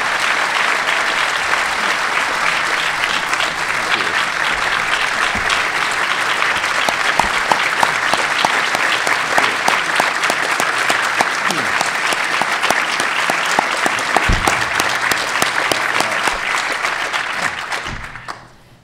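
Sustained, loud audience applause welcoming Senator Mitch McConnell at an opening address, steady dense clapping throughout that tapers off at the very end.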